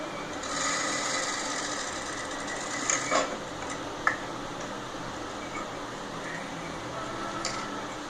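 A sewing machine stitches the fabric of a phone charger cover. It runs as a steady, quiet mechanical whir, with a few faint clicks and taps over it and no talking.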